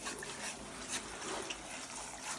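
Metal moulds used for melting gold are scrubbed under running water: a quiet, steady hiss of flowing tap water with faint rubbing, and no talking.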